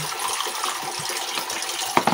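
Cold drinking water pours steadily into a glass or cup in a home, a soft continuous splashing trickle with a couple of brief clinks near the end, close and alone without talk.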